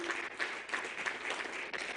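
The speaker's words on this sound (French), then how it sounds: "ils méritent d'être applaudis comme des cœurs de champions" Congregation applauding during a church service, a soft, fairly distant wash of clapping for about two seconds with slight rises and dips.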